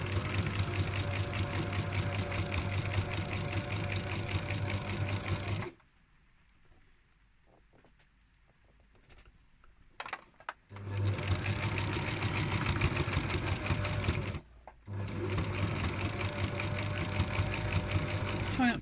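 A sewing machine stitching a pajama waistband and hem runs in long, steady, loud whirring bursts, stopping for a quiet pause with soft handling clicks before starting again, then briefly halting once more.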